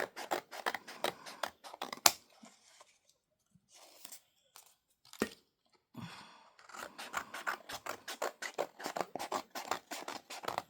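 Scissors cutting paper for a junk journal, a run of quick, close crisp snips and rasps, then a pause with soft rustling, then another long run of rapid snipping.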